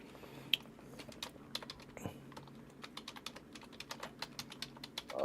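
Steady typing on a keyboard, rapid irregular clicks running throughout at close range with a low electrical hum underneath and no voices.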